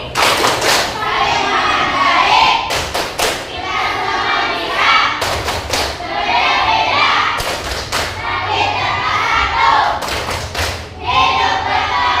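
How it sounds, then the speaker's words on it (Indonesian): A classroom of children performs tepuk toleransi, loud rhythmic group clapping in repeated bursts of patterned claps with chanting voices between them, close and lively. "Sekarang kita tepuk toleransi sekali lagi ya."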